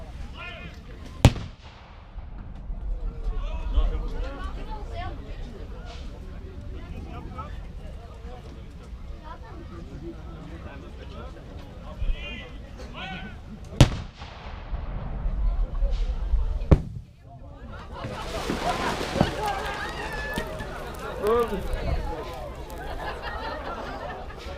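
British 25-pounder field guns fire during a WW2 reenactment battle, several loud booming blasts spaced apart over steady crowd chatter and outdoor background noise, ending in a longer rumbling burst.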